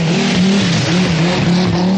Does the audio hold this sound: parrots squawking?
no